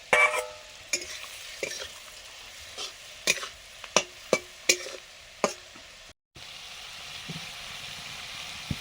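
Fish roe coated in salt, turmeric and mustard oil being lightly fried in a pan, with a soft steady sizzle broken by a run of sharp clinks and scrapes of stirring, mostly up close.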